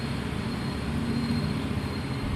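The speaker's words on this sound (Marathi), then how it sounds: "खूप भारी वाटतं मेट्रोमध्ये" Riding inside a metro train, a continuous, loud rolling rumble of wheels and carriage runs steadily throughout without any talk.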